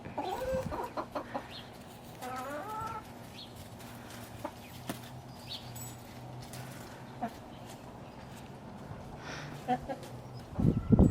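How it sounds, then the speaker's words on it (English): Hens clucking and squawking close by, intermittent calls rising over a quiet outdoor background, with a louder burst of clucks at the end. "Just a quick look at the chickens."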